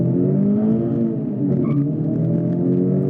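Toyota GR86 revving at a drag strip start with the handbrake up, a steady loud engine drone holding under load for about three seconds without clear gear changes.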